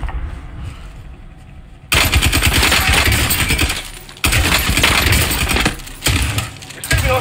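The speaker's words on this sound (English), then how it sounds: "Receiving hostile fire." Gunfire in Call of Duty: Warzone on Verdansk, loud dense bursts of automatic fire that start abruptly after a quieter stretch, break off briefly and resume, with little or no talking.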